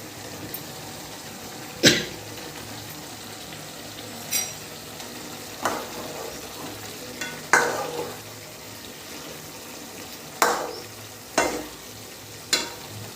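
Egg gravy fries in a pan under a low sizzle as a spoon stirs, and sharp scrapes and clanks sound every couple of seconds up close.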